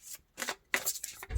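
Tarot cards shuffled in a few quick riffling bursts, close and fairly quiet, with brief pauses between them.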